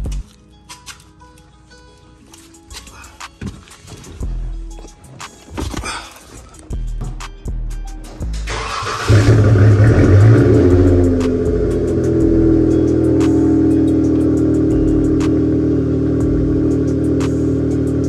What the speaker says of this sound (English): That was a rough cold start, man.